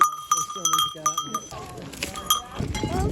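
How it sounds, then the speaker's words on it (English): Goats on a mountainside near an old off-grid farm, several bleats mixed with clanking bells heard from a moderate distance, with some talk and wind-like rumble toward the end. "There is goats up the mountain."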